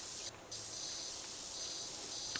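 Steady hissing spray of a pressure washer in PowerWash Simulator 2, a continuous broadband rush of water that briefly dips and returns, even and close throughout with no talking.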